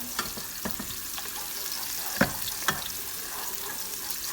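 Chopped onion caramelizing in a non-stick pan gives a steady, loud frying sizzle, broken by a few sharp clicks of a utensil stirring, with no voices present.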